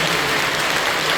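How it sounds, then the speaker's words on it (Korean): A Korean church congregation claps warmly after a baptism prayer, a dense, even wash of applause from many hands throughout, with no one speaking over it. "뜨겁게 박수 주시죠"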